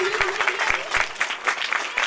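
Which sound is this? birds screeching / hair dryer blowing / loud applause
loud applause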